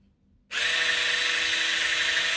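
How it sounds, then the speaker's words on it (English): A handheld electric whisk starts abruptly after a brief silence and runs at a steady high whir, beating butter and sugar together for a chocolate cake, loud and close with no talk. "Now we need to beat the butter and the sugar together using a handheld electric whisk"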